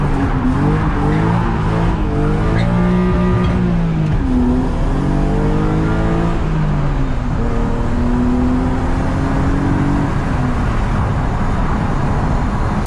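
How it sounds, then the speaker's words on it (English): A BMW E36 drift car drives on the road with its engine loud and close, revving up and down in rising and falling sweeps over constant road and cabin noise, without any talk. "I'll just see if I can give you some anti-social driving on the way home"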